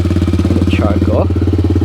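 A pit bike with a swapped-in Lifan 140cc engine idles on choke, putting out a close, loud, steady chugging beat with fast even pulses and a light mechanical clatter.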